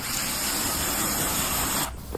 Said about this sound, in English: To start off, hose it down.